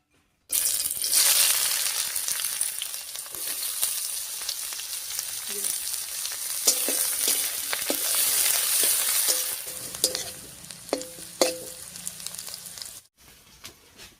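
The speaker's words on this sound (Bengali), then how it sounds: "এবারে তেলের উপরে দিয়ে দিচ্ছি বেশ খানিকটা পেঁয়াজ কুচি আর কয়েকটা চেরা কাঁচা লঙ্কা" Chopped onion and slit green chillies hit hot oil with a sudden loud sizzle that keeps frying steadily, with scattered stirring scrapes and clinks toward the end before it cuts off.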